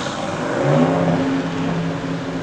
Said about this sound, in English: Sorry for the loud motorcycles.